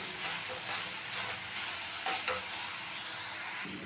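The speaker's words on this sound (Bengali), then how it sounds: "চামচটা দিয়ে একটু ভেঙে ভেঙে মিশিয়ে নেব।" A spoon scrapes and breaks up a fried and boiled vegetable filling for veg rolls in a pan, with repeated stirring strokes over a steady soft sizzle, close and alone.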